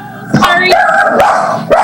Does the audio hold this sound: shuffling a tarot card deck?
no